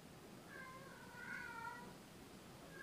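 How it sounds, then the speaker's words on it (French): A house cat meows softly indoors: one drawn-out, wavering call in the middle, with a short start of another at the very end, faint and alone. "il y a mon chat qui est en train de miauler"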